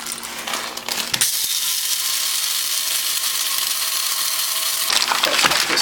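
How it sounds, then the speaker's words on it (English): A spice-dedicated coffee grinder coarsely grinds peppercorns in one continuous gritty whir lasting several seconds, close and fairly loud, with a few rattling clicks just before and after. "I'm going to give a pretty coarse grind on some peppercorns"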